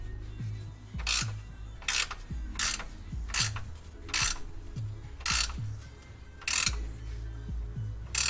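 A ratchet wrench tightening the rubber-bushed suspension bolts of a 2006–2014 first-generation Honda Ridgeline under load, heard as about eight sharp bursts of clicking with short pauses between, close and fairly loud with a low mechanical rumble beneath.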